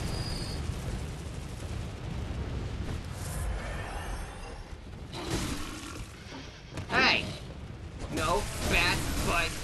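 Gunfire in the gothic action game Bloodborne, several sharp bursts and booms landing mid-clip and near the end over a steady rumbling game soundscape, with someone talking throughout.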